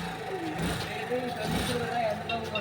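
A mini race car's small engine keeps running with an even, buzzing drone close by, mixed under a man's speech throughout.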